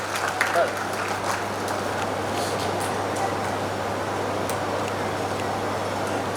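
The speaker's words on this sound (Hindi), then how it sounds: "इनका तालियों से स्वागत कीजिए किशोर सिंह जी का" A crowd at a fish merchants' association golden jubilee celebration applauds a guest onto the stage with steady, diffuse clapping, and there is a constant low hum beneath it.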